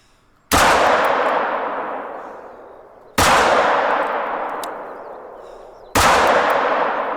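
Three loud, evenly spaced .357 handgun shots ring out in the hunting game theHunter: Call of the Wild, each a sharp crack followed by a long echoing decay, with no talk.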